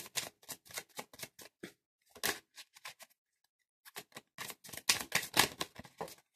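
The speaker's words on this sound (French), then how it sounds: "Oups, une carte est tombée." Tarot cards being shuffled by hand, giving a run of crisp, close riffling and slapping bursts in two clusters separated by a short pause, with a card dropping among them; no voices.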